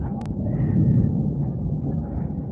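Thunder after lightning near a hilltop temple gives a deep, rolling rumble that swells and fades over a couple of seconds, with a brief sharp crack near the start.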